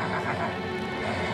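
A cartoon unicorn lets out a loud, continuous neigh while straining to lift a generator, with a dense, steady whinny filling the short moment and no talking over it.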